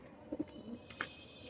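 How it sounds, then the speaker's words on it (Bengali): Pigeons kept on a rooftop garden give a few soft, low coos spread through the moment, faint and fairly distant, with no talking. "এই দেখো আমাদের ছাদ বাগানে পায়রা।"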